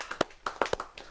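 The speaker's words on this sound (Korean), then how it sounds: "박수 박수. 브라보." A small group of people at a village artist's house claps after a student reads a poem aloud, a few sparse, uneven hand claps close by in a quiet room.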